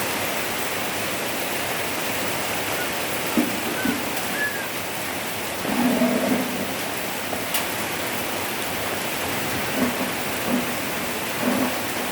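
Steady hiss of rain fills the whole stretch, even and unbroken, with a few faint soft bumps and murmurs underneath.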